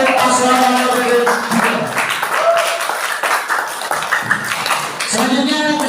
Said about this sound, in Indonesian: Beri tepuk tangan yang meriah untuk paslon nomor urut